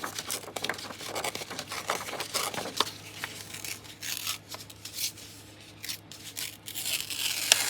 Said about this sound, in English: I'm just going to tear this.